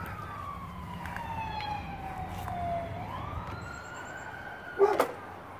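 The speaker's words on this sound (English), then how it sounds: "now what we've got is we got the cops coming" A police car siren wails from a distance in one slow falling and rising sweep, with a brief sharp clatter close by near the end.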